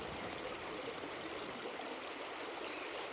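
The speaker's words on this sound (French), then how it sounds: "Je sais pas si vous allez m'entendre avec le bruit de l'eau." Steady, loud rush of river water tumbling through rapids, a dense continuous roar that fills the whole stretch with no pauses.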